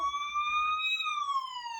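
Toy ambulance siren wailing in a smooth rising and falling electronic tone, close and clear against a quiet background, with no talking over it.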